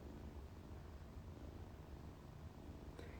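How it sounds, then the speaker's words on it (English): A soft, steady low rumble of purring runs throughout, quiet and close, with a faint brief click near the end. "Do you hear the purrs?"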